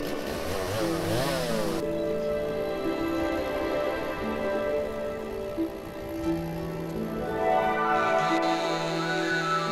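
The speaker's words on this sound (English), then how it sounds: "Now pick up the chainsaw." Chainsaw in the logging video game Lumberjacks Dynasty, a loud, buzzing two-stroke drone that revs up, holds steady, drops to a lower idle and then climbs again, continuous and close throughout.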